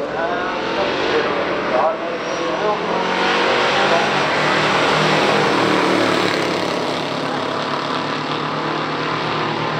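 A 1966 Ford Fairlane and a 1969 Plymouth Barracuda roar down a pure stock drag strip, their engines a loud, continuous, full-throttle drone that barely shifts across the run, with a voice talking under the noise.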